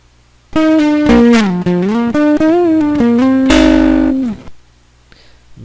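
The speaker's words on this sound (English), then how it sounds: "Here's the same one with a little bit of distortion." Short synthesized melody with strong harmonics and a sliding pitch, played with a light distortion effect; a loud sequence of sustained notes, with no voices.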